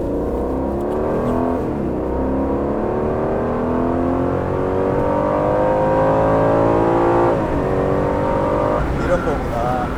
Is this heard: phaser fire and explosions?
no